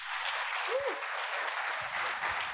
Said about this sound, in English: Round of applause, everybody.